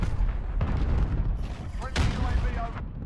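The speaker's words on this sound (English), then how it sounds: "HQ, stand by. Allied cruise missile away." An allied cruise missile strike in the Call of Duty Modern Warfare multiplayer game, with loud, close, rumbling explosions and booms layered over gunfire for a few seconds.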